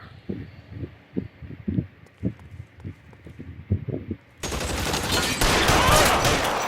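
Sustained burst of covering gunfire in L.A. Noire, a dense loud volley that erupts after several seconds of scattered low thumps and footstep-like knocks, then continues steadily to the end.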